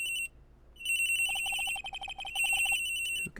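A telephone rings in the Ace Attorney: Trials and Tribulations game, a bright electronic trill pulsing in rapid repeated bursts with a short gap, loud and alone without talk.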